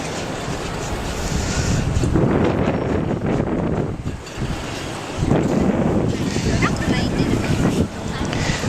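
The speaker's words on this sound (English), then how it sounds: "I think the wind is going to try to push them over." Strong gusty wind before Typhoon Haiyan in An Hai Bac, Da Nang, roars and buffets loudly in waves, with rumbling microphone wind noise that dips briefly before surging again.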